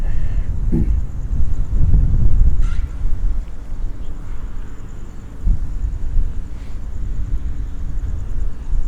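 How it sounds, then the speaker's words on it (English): Steady wind buffets the microphone outdoors at night in a binaural recording, a constant low rumble with gusty swells and a few faint clicks, no talking. "It is really windy out."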